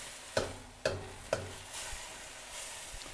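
Chicken with spring onion stir-frying in oyster sauce, with three distinct stirring scrapes over a steady soft sizzle in the pan, close by with no talk.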